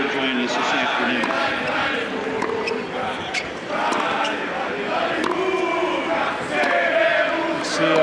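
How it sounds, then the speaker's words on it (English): Crowd of tennis fans, the Guga gang behind the baseline cheering for Gustavo Kuerten at a Cincinnati 2001 match against Haas, a steady roar with shouts and scattered claps running throughout, a commentator's voice talking over it. "And they have not stopped cheering since he walked on the court."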